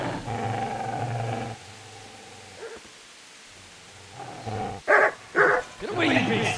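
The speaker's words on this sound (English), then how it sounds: "Get away, you mutt!" A dog in Kingdom Come Deliverance barks a few loud, sharp times near the end, after a stretch of game voices and quiet ambience.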